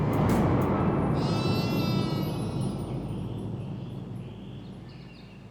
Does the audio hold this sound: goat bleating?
yes